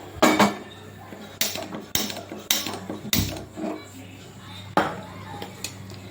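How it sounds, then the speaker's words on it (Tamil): A metal spoon stirs and scrapes a ghee Mysore pak mixture in a pan, producing a series of sharp clanks and knocks at uneven intervals against a low background hum. "இப்போ நம்ம இதை பக்கம் இன்னும் கொஞ்சம் நேரம் நல்லா இழுத்து கிண்டுறோம்"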